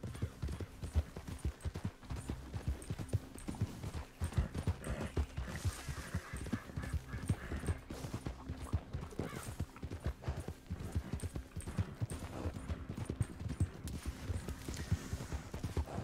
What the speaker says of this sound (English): You might want to be stopping that horse right about now.